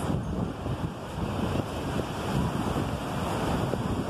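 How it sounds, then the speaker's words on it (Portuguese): Ocean waves break against the rocks at Tambaba beach, a steady, loud roar of surf and spray mixed with gusting wind buffeting the microphone, with no voices. "Olha essas ondas maravilhosas aí"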